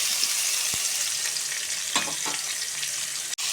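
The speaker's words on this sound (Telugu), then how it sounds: "కొంచెం కడాయిలో నూనె పోసుకొని 3 టమాటాలు, 1 ఉల్లిపాయ కట్ చేసేసుకొని వేసుకోండి." Three chopped tomatoes and an onion sizzle in oil in a kadai, a loud, steady frying hiss with a couple of faint stirring scrapes and no voices.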